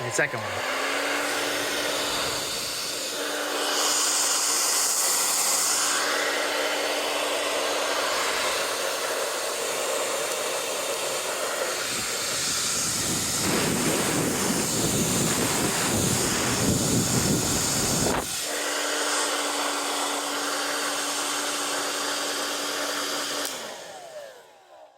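A WavyTalk hair dryer blows on its low fan setting, a steady close whoosh with a faint whine. It briefly stops and surges louder before settling back, and a short remark is heard near the start.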